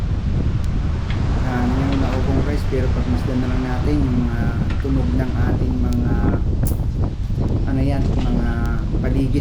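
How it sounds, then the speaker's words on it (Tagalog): Steady, loud wind rumble fills the whole stretch while a person talks over it, with faint bird chirps here and there. "medyo masyadong malakas yung hangin ngayon"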